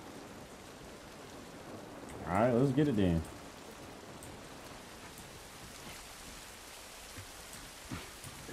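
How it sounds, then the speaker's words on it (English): Steady soft rain in The Last of Us Part 1 video game patters continuously in the background while someone briefly speaks over it; faint drips and taps stand out near the end. "This rain ain't gonna do us any good."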